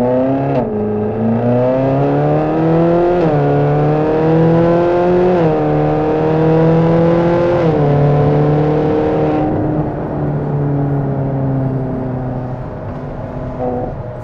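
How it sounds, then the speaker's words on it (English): A Ferrari California 30 V8 engine and exhaust roar close by, pitch climbing in repeated surges with a brief dip at each gear change as it accelerates hard. "The gear changes, the sound, both from your engine and from the exhaust, is thrilling."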